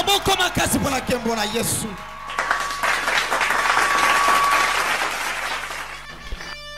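A church congregation applauds loudly for Jesus at a revival sermon, a dense, sustained wash of clapping that swells after a brief burst of speech at the start and carries on for several seconds.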